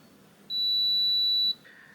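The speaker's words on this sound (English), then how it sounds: "once you hear a long beep and the select button turns green, it means the reset is complete" A Schlage FE595 keypad lock finishing its reset gives one long, loud, steady beep lasting about a second against a quiet room, followed by faint background noise.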